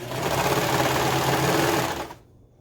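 A sewing machine stitches a hooded scarf in one loud, fast, rattling run of about two seconds, then stops abruptly.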